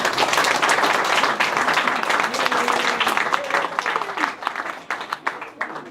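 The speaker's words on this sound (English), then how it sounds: "let's give Brandon a round of applause for the honor show" An audience applauds at a scout court of honor ceremony, a dense burst of many hands clapping that stays steady and loud, then thins into scattered claps near the end.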